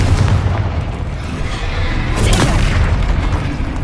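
Fiery Confringo spell blasts in the video game Hogwarts Legacy, a loud, continuous rumbling boom with crackling bursts layered over one another throughout.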